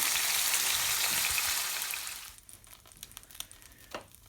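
An emperor fish fillet fries in a pan, giving a loud, dense sizzle that drops off after about two seconds into quieter, scattered crackles and pops.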